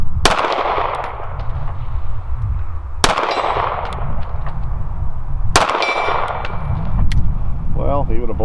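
Staccato CS pistol fired at a shooting range: three loud, sharp reports spaced about three seconds apart, each followed by a ringing decay, with background noise between shots.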